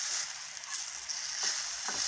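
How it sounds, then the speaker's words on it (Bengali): Eggplant slices fry in hot oil, giving a soft, continuous sizzle with faint crackles and light stirring, steady and close, with no voices. "যে কোনো স্যারস্যার শব্দ করলে বুঝবেন যে ভিতরে একটু কাঁচা আছে বা পানি আছে।"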